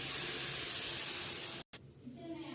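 A loud, bright hiss and sizzle of water poured into a hot frying pan of sautéed ingredients with curry leaves, steady for over a second, then cut off and fading to a quieter bubbling simmer.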